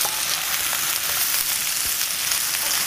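Baby Dutch potatoes with the skin on sizzle steadily in hot oil, a loud continuous frying hiss heard up close with no talking.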